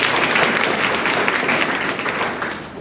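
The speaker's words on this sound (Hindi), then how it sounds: "दूसरी बार भी ताली बजा के करो।" Schoolchildren at a school in Odisha clapping hard, a dense, loud burst of many small hands applauding together, close and continuous, fading slightly toward the end.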